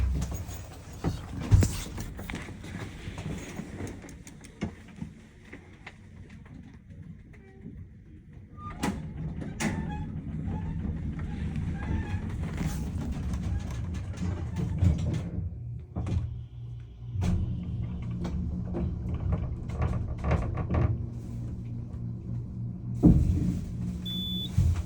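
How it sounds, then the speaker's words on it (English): Small 2,500-pound hydraulic elevator in a college art building ascending, a low steady rumble with door clunks and mechanical knocks, quiet and close, no talking. "We're gonna take another ride up to 4."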